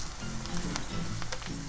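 Onions frying in a generous amount of butter in a pan for a pumpkin soup, a steady close sizzle with a few soft crackles and light stirring sounds.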